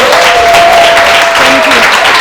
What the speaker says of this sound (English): can we give Eugina a massive round of applause, please?